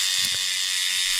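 A buzzing, mechanical whir imitates a tattoo machine, with a few brief ratcheting pulses near the start over a steady high hiss.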